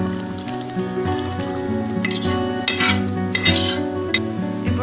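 Green peas masala is scooped from a pan into a serving bowl amid spoon scrapes, light clinks of utensils and a faint sizzle; no speech.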